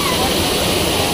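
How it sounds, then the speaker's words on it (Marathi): A nearby waterfall pours down in a steady, dense rushing roar, loud and unbroken over a brief moment, with a voice faintly underneath. "इथलं धबधबा भारी येतो"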